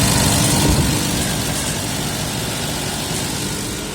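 A 1992 Nissan Patrol with a 4.2-litre petrol six-cylinder engine runs at a raised idle near 1000 rpm, a loud, steady, close-up rumble that eases slightly in level after a brief rise at the start.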